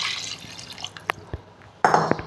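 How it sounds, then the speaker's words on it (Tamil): Water poured from a glass into a pot for chicken biryani, with scattered drips and splashes, then a sudden louder gush of pouring near the end, close and clear without talk. "அதனால் 3 கிளாஸ் தண்ணி ஊற்றுறேன்"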